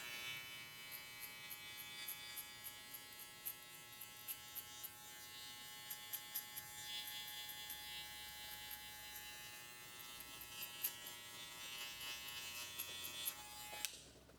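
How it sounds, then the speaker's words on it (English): Electric hair clipper buzzing steadily for the whole stretch while a mid drop fade is detailed at the bottom, a close, even motor hum with small clicks, no talking. "Now I'm gonna go ahead and close my clipper and continue to just work on the bottom part of this fade"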